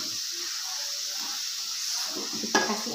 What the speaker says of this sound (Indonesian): Aduk lagi sampai rata.